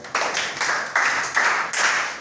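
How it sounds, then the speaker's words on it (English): Class of students in a computing lesson clapping together in several rhythmic bursts, fairly loud and steady, with no talking over it. "Clap for her."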